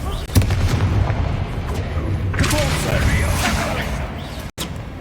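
A Confringo fire spell explodes with a sharp boom early on, then rumbling blasts and crackling rush through dense combat noise in the Hogwarts Legacy video game.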